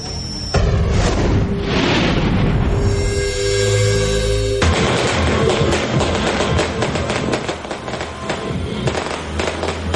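New Year fireworks and firecrackers burst over Metro Manila to welcome 2013, a loud, dense, continuous barrage of cracking pops and heavy booms with no pauses and no voices.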